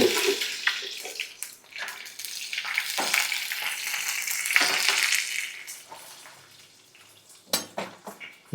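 Dried red chilies and curry leaves fry in hot oil with a broad, crackling hiss that fades toward the end, broken by a few close utensil knocks.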